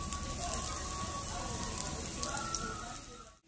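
Bok flower fritters fry in oil, a faint, even crackling sizzle that holds steady throughout and then cuts off abruptly.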